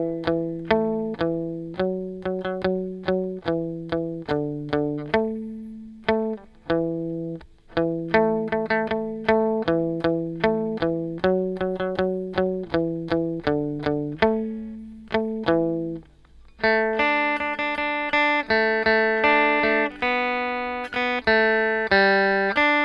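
An electric guitar plays a twangy melody as a steady run of plucked single notes, shifting near the end into brighter, denser repeated notes with a wet, echoing tone.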